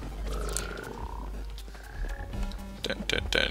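Frog croaks sound in Guild Wars 2's 8-bit Super Adventure Box dungeon, a few clear croaks among bleepy game tones, then a louder flurry of game sounds at the end, with no speech.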